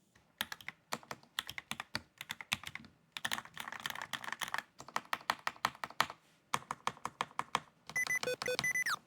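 Bursts of rapid typing on a Red Square Keyrox TKL mechanical keyboard, crisp clacky keystrokes in quick runs separated by short pauses, close and clear with no voices.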